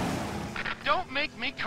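Cannon fire in the video game Brütal Legend: several short, loud booming bursts in quick succession, mixed with in-game voices speaking over the blasts.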